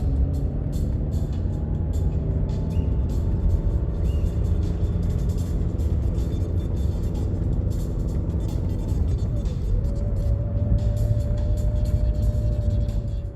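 An Audi A1 1.6 pulls away at about 2000 rpm, its engine holding a steady, close drone that climbs slightly in pitch near the end, with no voices.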